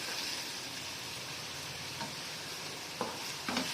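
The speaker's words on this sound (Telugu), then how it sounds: "ఈ ఆనియన్ ఫ్రై చేసుకున్నాను ఫస్ట్. ఇలా ఫ్రై అవుతున్నాయి కదా" Chopped onions and grated tomatoes fry in a pan for fish pulusu, giving a steady close sizzle with a few spoon scrapes near the end.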